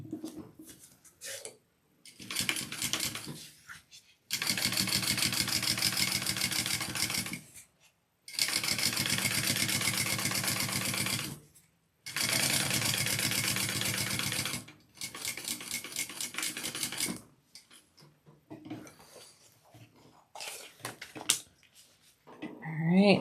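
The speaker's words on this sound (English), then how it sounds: "we're just going to top stitch right across this slip pocket piece" A domestic sewing machine top stitching across a slip pocket piece of a handbag, running in several close, rapid bursts of a few seconds each, separated by pauses and light handling clatter.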